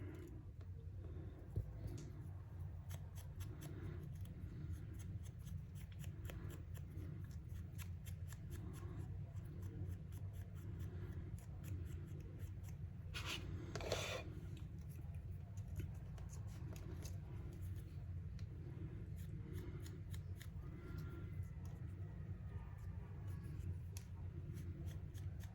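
Scissors fussy cutting paper pieces for a junk journal, a soft, quiet series of repeated snips and paper rustles close by, with one brief louder rustle midway.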